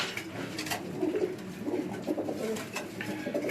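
Pigeons in a rooftop loft in Karachi give soft, repeated, rolling coos. The calls are fairly close and faint, over a light background hiss and a few clicks.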